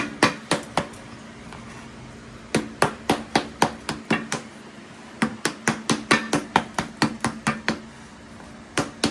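A rubber mallet knocks repeatedly on a plant cutting container to loosen it, sharp hits landing in quick bursts of several blows separated by short pauses, close and clear.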